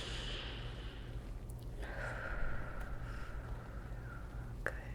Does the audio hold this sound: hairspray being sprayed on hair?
no